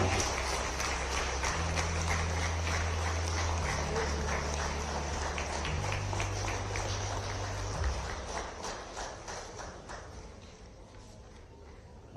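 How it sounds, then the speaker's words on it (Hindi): Applause from an audience at a political event in honour of a state chief minister, a dense steady wash of clapping that runs for about twelve seconds, with low tonal hum or music underneath early on before tapering slightly. "जोरदार तालियां बजनी चाहिए, जोरदार तालियां, खड़े होकर एवरीवन"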